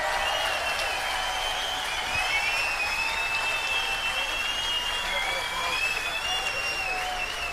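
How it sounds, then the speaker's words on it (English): Arena audience applause for the finalists at the 2016 BDO World Darts Championship final, a broad steady patter of clapping, moderately distant, with whistles and cheers rising above it. "may we have a round of applause for both our finalists."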